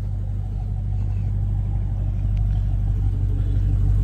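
A car engine rumbles low and steady from inside the cabin as it sets off cruising, a continuous deep drone with no talk.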